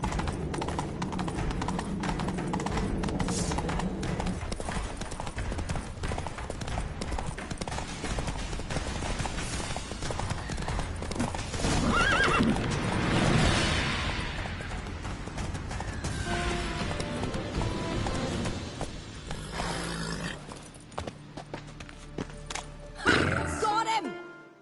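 Hooves clatter in a steady gallop amid a busy mix of music and effects in The Witcher 3 video game, with occasional voices and a horse whinny near the end.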